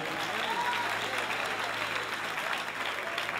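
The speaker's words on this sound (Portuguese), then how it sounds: "Os que podem, tomem o seu assento aplaudindo a Jesus, porque Ele é bom," A church congregation applauds during a service, continuous even clapping from a large crowd throughout, with a faint voice briefly rising above it.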